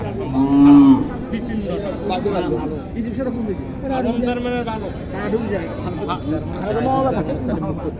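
A cow at a village cattle market in Naogaon moos in several short and drawn-out calls, near and fairly loud, mixed with people talking and market chatter.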